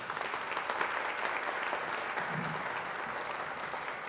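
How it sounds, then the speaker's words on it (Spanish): Steady applause from an audience fills the whole stretch, dense and even, with no voices on top. "Démosle la bienvenida a Dalia de la Cerda con un fuerte aplauso."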